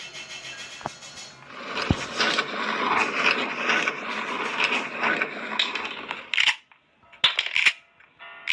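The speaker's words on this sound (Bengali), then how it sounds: "এই যে গ্রানি এসেছে, একসাথে হেডশট মারলাম" Gunfire from a headshot in the horror video game Granny Chapter Two, heard as sharp game shots and impacts over a busy stretch of in-game noise, with a few distinct bursts near the end.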